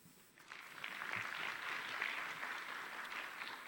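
Conference audience applauding after a business talk, a steady, moderately distant patter of clapping that swells quickly and holds evenly for a few seconds.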